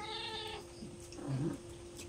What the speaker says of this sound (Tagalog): Nainit yung pusa namin.